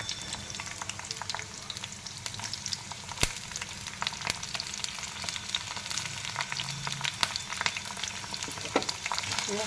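Onion, curry leaves and green chillies frying in a pan, a soft continuous sizzle peppered with frequent small crackles and occasional stirring clicks.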